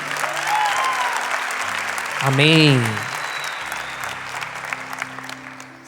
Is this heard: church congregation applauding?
yes